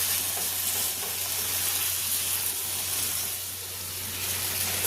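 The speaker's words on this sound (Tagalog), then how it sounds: "Niluluto na yung sangyup." Samgyupsal pork belly frying at home, giving off a dense, steady sizzle that stays loud and close for the whole stretch, with no voices over it.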